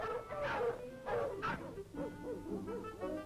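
A dog in army dog training yelps and whimpers in a series of short, high-pitched cries, closely recorded, with a few sharper bark-like yips mixed in.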